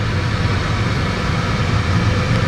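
Steady, loud engine roar with broad road and wind noise as a car pulls away in first gear and accelerates, heard from inside the cabin.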